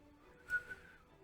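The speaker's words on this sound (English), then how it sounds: "Sorry for whistling." A short, faint whistled tune of a few bright notes, rising briefly out of quiet background noise.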